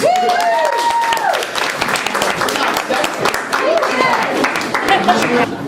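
An audience claps and applauds steadily at a creative writing reading, with voices and cheers mixed in over the clapping.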